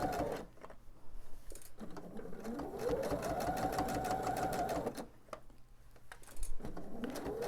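A domestic sewing machine stitches binding onto a small baby quilt in a steady, close, rapid needle rhythm, pausing briefly and restarting, with a faint motor whine rising in the middle.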